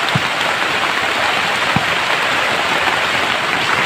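Steady rain pouring down outdoors by a rural field, a dense even hiss of drops on surfaces with a couple of low thumps and no talking.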